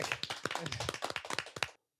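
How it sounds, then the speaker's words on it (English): Sharp, close hand claps in a quick, steady rhythm, roughly a dozen, welcoming a guest on a podcast, stopping abruptly into silence. "Let's clap it up."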